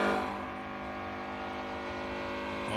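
Classic race car at the Simola Hillclimb downshifting into the S-bends, a loud, close, continuous engine drone whose pitch drops and then climbs again as revs change, with no talking over it.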